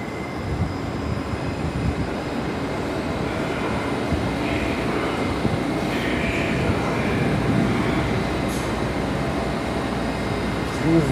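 Vintage Moscow metro train running in a Day of the City train parade, a loud continuous rumble and rattle of wheels on track with a faint voice underneath.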